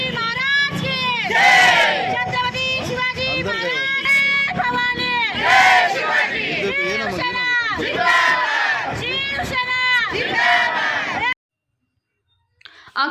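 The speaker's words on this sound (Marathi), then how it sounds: "कल्याणमध्ये शिवसेनेकडून जल्लोष साजरा" A Shiv Sena crowd celebrates in Kalyan, many voices shouting and chanting together in loud rhythmic bursts of slogans, close and continuous, before cutting to near silence at the end.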